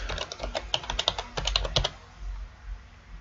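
Password keys tapped on a computer keyboard during Windows Server 2016 VPN setup: a quick irregular burst of close, crisp keystrokes for about two seconds, then quiet room tone.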